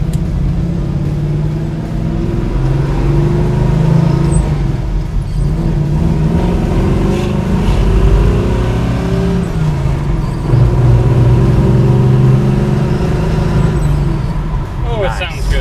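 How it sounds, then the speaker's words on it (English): Loud, steady rumble of a 1972 Chevrolet Nova with a Hurst shifter while driving, a coarse low drone filling the cabin with slight swells throughout. "Not the quietest car we've ever driven."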